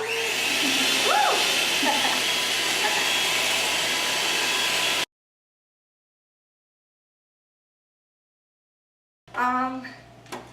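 Electric hand mixer beating a thick mixture in a bowl, a loud steady whine with shifting pitch for several seconds, then silence, then a shorter burst of motor whirring with a voice over it.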